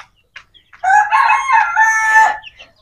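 A rooster crows loudly and close on a desi poultry farm, one long drawn-out cock-a-doodle-doo after a few short soft clucks from the hens.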